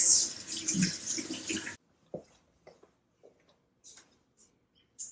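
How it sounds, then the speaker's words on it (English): Kitchen tap runs while hands are washed after handling raw meat: a close, fairly loud rush of water for about two seconds, then it shuts off, leaving near silence with a few faint clicks and small handling sounds. "Wash up after touching meat."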